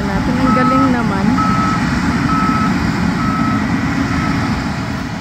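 A farm truck takes on a load of harvest while its reversing alarm beeps in a steady repeating pattern over a loud idling engine, close and prominent; voices can be heard faintly underneath.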